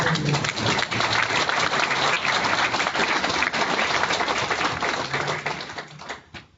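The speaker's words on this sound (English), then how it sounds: "Let's give him another round of applause." Sustained audience applause fills a meeting hall during a credit union's 2016 annual meeting, dense and steady clapping from a large crowd that tapers off near the end.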